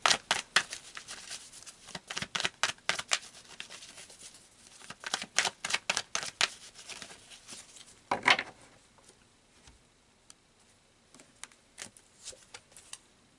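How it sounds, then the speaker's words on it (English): Tarot cards are shuffled and pulled in quick papery bursts of riffling and flicking, loud and close at first, then thinning to occasional soft slaps and slides, with no voices. "So let's pull some more cards."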